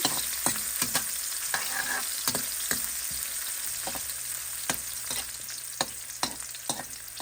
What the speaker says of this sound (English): my oil has been hotting, so I'm gonna put my onion in and give it a little turn